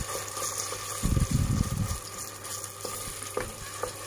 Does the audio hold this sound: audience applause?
no